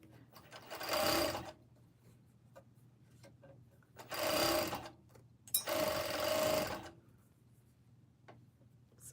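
A serger sewing machine stitching a backless t-shirt, three separate bursts of rapid whirring each a second or more long, with quiet pauses of fabric handling in between.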